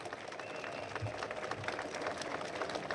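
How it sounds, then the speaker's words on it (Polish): Crowd applause for the candidate Sławomir Mentzen at a political rally in Płock, a faint, distant, steady patter of clapping hands with no voices over it. "Jeszcze raz wielkie brawa."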